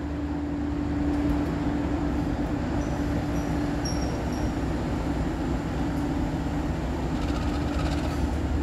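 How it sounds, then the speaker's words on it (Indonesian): The Dharmawangsa passenger train rumbles past steadily and close by at an Indonesian station, a continuous low roar with a humming tone and faint high squeals of wheels, no voices. "Nantinya kereta api Dharma Wangsa bergerak ke arah sana lalu mundur ke jalur 1"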